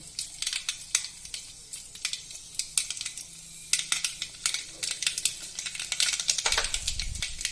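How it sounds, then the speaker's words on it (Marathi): Mustard seeds crackling and popping in hot oil while tempering Vidarbha-style kadhi, a dense run of sharp, irregular pops close by, growing busier toward the end. "मोहरी चांगली तडतडली की"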